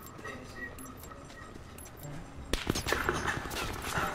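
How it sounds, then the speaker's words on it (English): Gunfire in Call of Duty Black Ops 4 on PS4, first a faint patter of distant shots, then from midway a louder burst of close, rapid sharp reports, with a voice faintly underneath. "Oh crap, gunshots, gunshots."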